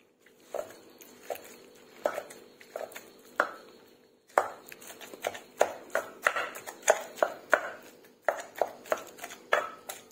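Pumpkin soup ingredients are pounded in a mortar in a steady run of dull thuds, slow and spaced at first, then quicker and louder after a short pause, with nobody speaking.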